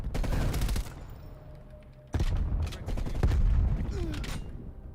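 MP5 submachine gun firing in Black Ops Cold War, rapid bursts of automatic gunfire with sharp cracks, a pause and then longer sustained bursts, with a voice talking over parts of the action.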